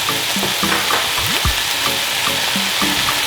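Minced garlic and chili paste sizzle steadily in hot butter in a pan, a constant fry hiss with repeated spoon scrapes and clinks against the pan.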